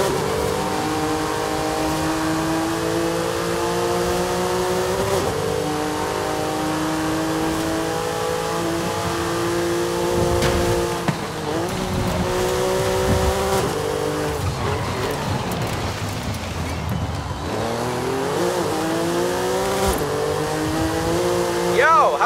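Race cars scream through a Forza Horizon 5 race, engines revving and shifting in repeated rising sweeps with tire noise, loud and continuous while voices talk over the action.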